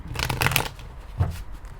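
Tarot cards shuffled by hand in a short, soft riffling flurry followed by a single quieter flick, close and alone with no voice.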